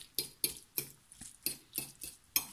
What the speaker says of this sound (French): Je vais venir mélanger rapidement avec ma fourchette.